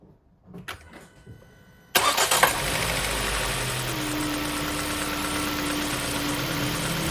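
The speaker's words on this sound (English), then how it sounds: "I just want to start the engine" A Volvo V50 2.0 petrol engine, with its upper engine mount removed, cranks briefly and fires up, then settles into a loud, steady idle with a constant hum and faint knocking texture, close by with no talk.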